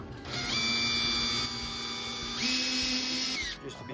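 Power drill boring into the fiberglass hull of a Sunfish sailboat, a close, loud whine that starts, runs steadily for about three seconds with a brief pitch shift midway, then winds down.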